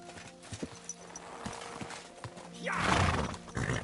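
Horse hooves in the medieval game Kingdom Come Deliverance 2, scattered clip-clop steps early then a louder burst of galloping with a whinny-like rise near the end, under a quiet game soundscape.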